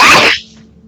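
A single sharp, loud sneeze close by, a quick burst of breathy noise cut off abruptly, followed by near quiet.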